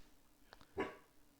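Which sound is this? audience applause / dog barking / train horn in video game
dog barking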